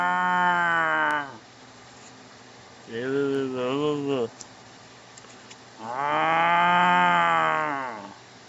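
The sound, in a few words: person imitating cow mooing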